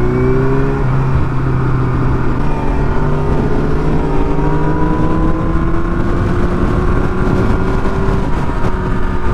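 A Yamaha R1 RN09 motorcycle with an MIF exhaust pulls hard in third gear, a loud close engine roar whose pitch climbs steadily over several seconds and stays sustained without a break.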